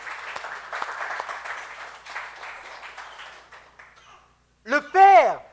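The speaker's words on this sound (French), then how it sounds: "Est-ce que tu peux acclamer le Seigneur cet après-midi?" A church congregation applauding during a service, a dense sustained patter of many hands that tapers off after a few seconds, followed by a loud voice rising at the end.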